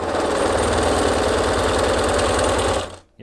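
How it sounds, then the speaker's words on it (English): A sewing machine fitted with a new motor races through a zigzag stitch at high speed, a loud, dense mechanical whir with rapid rhythmic needle pulses that runs steadily for nearly three seconds, then abruptly cuts off. "You ever see a zigzag go that fast?"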